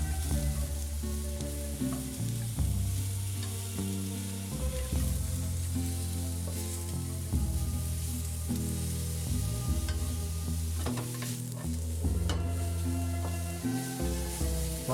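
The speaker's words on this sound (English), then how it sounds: "we will add in the mushrooms. Then stir them." Mushrooms sizzle and fry in a hot pan for a risotto, with a steady crackling hiss that runs throughout and occasional scraping as they are stirred.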